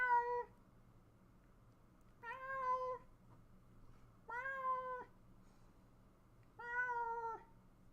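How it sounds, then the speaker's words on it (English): Cat meowing four times in drawn-out, evenly spaced calls separated by quiet pauses, close and clear. "The kitty goes meow."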